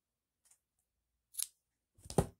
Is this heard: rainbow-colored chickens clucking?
no